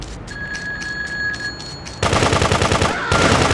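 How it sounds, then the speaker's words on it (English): Machine gun fire in the top-down game GTA 2, preceded by a rhythmic electronic beeping with a steady tone, then a loud rapid burst of automatic shots that pauses briefly and resumes. "Oh, machine gun!"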